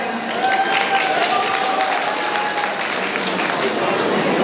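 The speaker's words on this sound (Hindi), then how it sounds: "आप सभी के लिए जोरदार तालियां।" A hall full of people at a college annual function and prize-giving ceremony breaks into loud, continuous applause, dense clapping holding steady throughout, with some voices mixed in.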